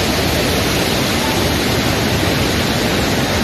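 A natural hot spring in Himachal Pradesh pours out a constant broadband rush of water, loud and steady, with no talk over it.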